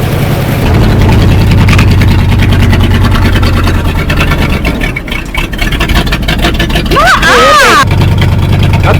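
Old Ford tow truck, abandoned for over 20 years, running with a loud steady low engine rumble close by, while people talk over it.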